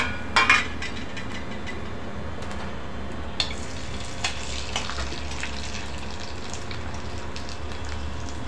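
Soaked sabudana papad frying in hot oil makes a continuous soft bubbling sizzle, with a sharp clink of a utensil near the start and a few light taps later.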